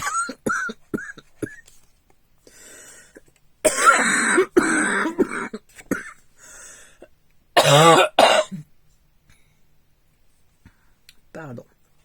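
A person gives a run of harsh coughs and throat clearing in bursts, close by, with short clicks and quieter gaps between the bouts.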